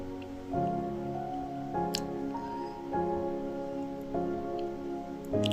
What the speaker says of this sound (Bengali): এখন ঢেঁড়সটা ভালোভাবে এই তেলের মধ্যে ভেজে নেব।